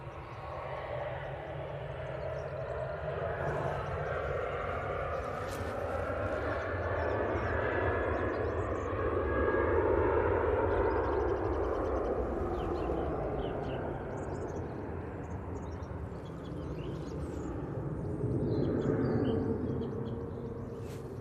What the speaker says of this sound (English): Got this Ryanair 737-800 now off to Milan.